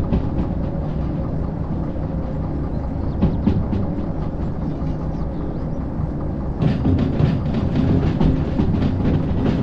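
A fast train passes through the Derail Valley rail simulation, a steady loud rumble of wheels and rail noise with repeated clicking impacts that swells and grows brighter near the end, with no talking.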